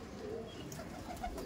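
A loft holding more than five hundred pigeons fills with faint, continuous low cooing, a soft background murmur with no talk over it.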